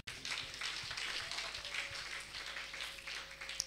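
A church congregation clapping together in praise, a dense, steady patter of many hands filling the room at moderate volume.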